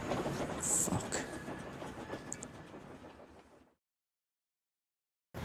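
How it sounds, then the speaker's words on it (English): Steam engine pulling an evening passenger train in an audio story, a rumbling clatter with a brief high squeal early on, fading to silence partway through before a sudden return at the end. "Edward pulled up with his evening passenger train"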